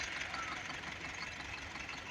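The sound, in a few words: tractor engine idling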